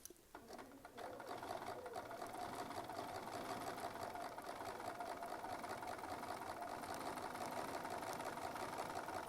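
A sewing machine runs steadily, double-stitching quilt fabric in a fast, even mechanical whirr. It starts after a brief pause and keeps going at an even, fairly quiet level to the end.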